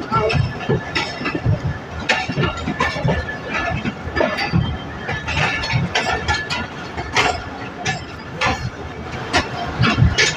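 The Sialkot Express rolls into Narang railway station with a steady, loud rumble of wheels, rhythmic clicks over rail joints and carriage rattles heard from inside the train, while someone speaks.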